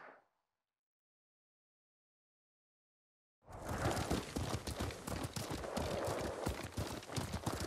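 In the video game Ghost of Tsushima, horse hooves clip-clop in a quick steady rhythm, starting abruptly after a few seconds of silence and continuing close and loud to the end.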